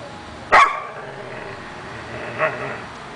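A dog gives two barks, a sharp loud one near the start and a shorter, softer one about two seconds later, with quiet room tone between them.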